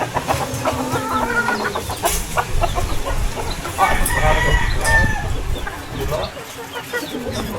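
A flock of chickens clucks and squawks busily nearby, overlapping calls going on throughout, with a rooster-like crow and a few faint voices mixed in.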